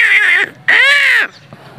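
Crows cawing in two loud, harsh calls, a short one followed by a longer drawn-out caw, close by outdoors with no talk over them.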